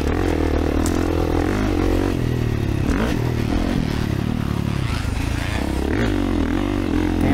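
A 2024 Kawasaki KX450 dirt bike ridden in a 50-plus class round of an Oregon state motocross series roars loudly and continuously close by, its engine pitch rising and falling as the rider revs through throttle changes.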